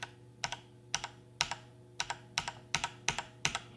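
Typing on a Cherry MX Red mechanical keyboard: about a dozen sharp, close key clacks in irregular quick bursts over a steady low hum from a water cooling pump.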